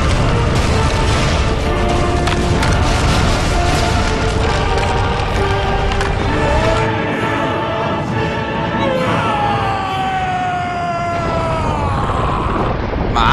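Explosion in the video game Asura's Wrath: a dense, loud, sustained roar with rumbling low end, blended with dramatic game score and sweeping tones throughout, with no pause or quiet gap.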